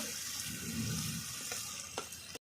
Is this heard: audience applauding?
no